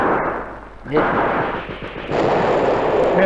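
Wartime radio drama gunfire effect: a sustained rumble of rifle and artillery fire with booming bursts, loud and continuous throughout the scene, heard alone without dialogue.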